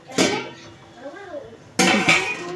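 A metal lid lifted from a pot of mung dal cooked with vegetables, heard as a sharp clank, then a second louder clatter, with a voice speaking briefly in between.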